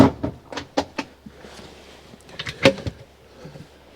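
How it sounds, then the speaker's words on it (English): A wooden cutlery drawer in a panel van motorhome slides and knocks a few times, with sharp clunks and rattles up close in a quiet room. "it's a wooden cutlery drawer."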